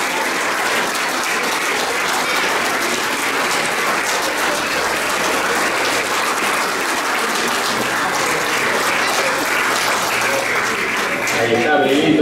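Steady, dense applause from a crowd at a 50th-anniversary celebration of a 1974 championship team, sustained loudly and evenly for several seconds with no speech.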